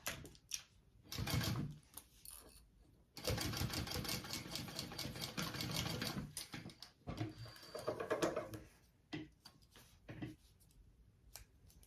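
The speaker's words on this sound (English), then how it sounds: "now I'm just going to sew along this edge right here" A sewing machine stitches along the edge of a handmade bag in several bursts of fast rhythmic clatter, separated by short pauses and quieter handling noises, fairly close and moderately loud.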